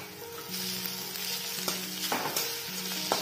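Onions, ginger, garlic and green chillies frying for an Odia baigana bharta, with a steady close sizzle and occasional scraping stirs, no talk.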